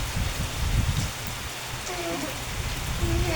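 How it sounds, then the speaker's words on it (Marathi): Heavy rain pouring outdoors, a dense steady patter on surfaces close by with a low rumble underneath, and faint bird-like chirps toward the end. "किती मोठा पाऊस येतो ना"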